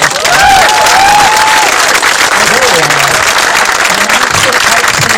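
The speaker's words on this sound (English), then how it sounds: "Would you please give them a round of applause?" Loud, sustained applause fills a room as an audience claps steadily, with whistles and faint cheering rising over the dense clapping and voices mixed beneath.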